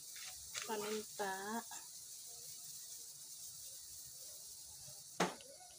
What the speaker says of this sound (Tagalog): since kumukulo na yung ating